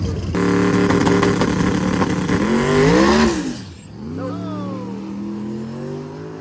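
A Pontiac drag racing car launches and accelerates hard down the strip, its loud engine roar climbing through the gears before a sharp drop at the shift, then pulling again as it recedes.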